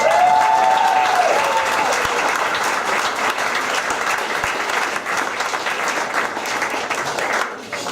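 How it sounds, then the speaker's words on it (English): A room full of guests applauds heartily at a family celebration, a loud and sustained wash of clapping with a brief whistle-like tone near the start, fading slightly just at the end. "Give them a big applause"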